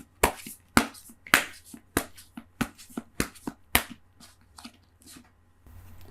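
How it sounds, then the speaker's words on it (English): Tarot cards are shuffled softly close up, giving a series of about a dozen crisp, uneven flicks and taps with brief pauses between them, and no one speaking. "So one more soft shuffle."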